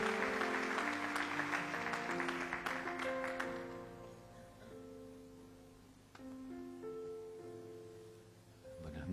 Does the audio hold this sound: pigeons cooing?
no